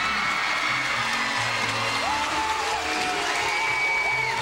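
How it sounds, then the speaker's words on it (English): Partisan Penn State crowd at a 2004 NCAA women's gymnastics regional, a broad sustained roar of cheering and applause heard at a distance behind the floor exercise music, steady throughout. "you hear the roar in the background from the partisan Penn State crowd here"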